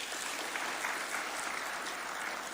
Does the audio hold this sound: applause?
yes